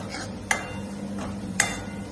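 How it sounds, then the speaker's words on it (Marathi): A spoon stirring red chili powder and turmeric into a pan of sandgyachi bhaji, with a soft sizzle beneath and two sharp clicks of the spoon against the pan's rim. "पुन्हा एकदा असं मिक्स करून घेऊ।"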